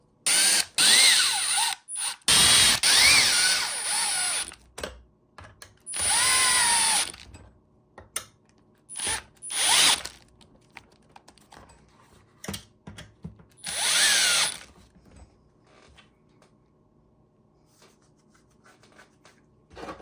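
A cordless drill whirs in several short bursts, driving screws into the shock tower of an Axial SCX6 RC crawler, with pauses and small clicks of handling between runs.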